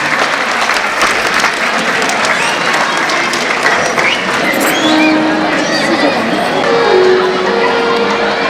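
Audience at a school annual function applauding loudly and continuously, a dense wash of clapping hands with crowd murmur, a few shouts and whistles mixed in.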